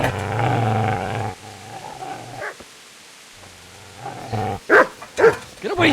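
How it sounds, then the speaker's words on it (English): A dog in the medieval video game Kingdom Come: Deliverance growls low and steadily, goes quiet, then lets out sharp close barks and yips near the end. "Get away, you mutt!"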